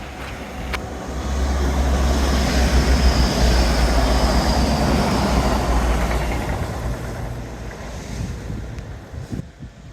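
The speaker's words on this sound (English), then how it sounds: "No toot, not a happy train." A train passes along the seawall and seafront at Teignmouth without sounding its horn, a loud low rumble that builds, holds for several seconds and then fades, mixed with buffeting wind noise.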